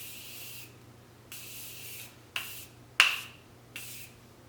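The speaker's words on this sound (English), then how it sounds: "we're gonna finish ourselves off with this Morphe continuous setting spray" A Morphe Continuous setting spray mist bottle is pumped in several short, close hissing bursts with pauses between them. No one speaks.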